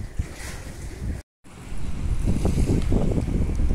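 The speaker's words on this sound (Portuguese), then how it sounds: "hoje está um vento bem forte, um vento sul" A strong south wind blows over the flooded Guaíba, making a steady broadband roar and rumbling microphone buffeting. The sound cuts out briefly, then returns louder and gustier.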